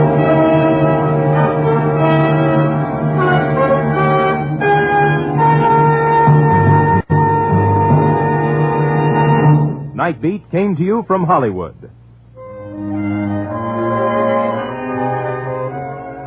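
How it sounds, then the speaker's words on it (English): NBC's three-note network chimes ring out near the end, a short bright tonal sequence following a radio announcer and dance-band music, with a voice returning right after. "3 chimes mean good times on NBC"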